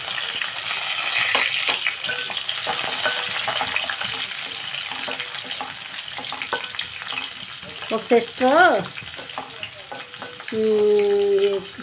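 Chana dal and garlic frying in hot oil, a steady close sizzle with stirring and scraping, broken near the end by brief voices.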